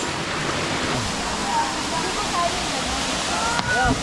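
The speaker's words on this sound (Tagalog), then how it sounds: "Ito yung tinatawag dyan ng Balagbag Falls" Balagbag Falls in Quezon pours as a loud, constant rush of falling water heard up close, with faint voices briefly audible beneath the roar.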